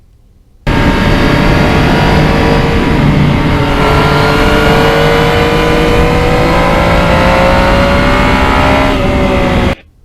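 A 2020 Yamaha MT-09 crossplane triple motorcycle with a quick shifter and a Michelin rear tire pulls hard, its loud engine note climbing through the revs close to the rider, with a brief dip near the end, alone without talk.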